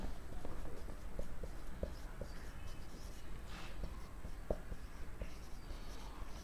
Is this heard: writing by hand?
yes